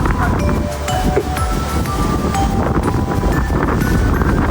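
Strong wind and rain batter a beach in a storm at Borawan White Beach, a loud continuous roar and buffeting with no let-up throughout.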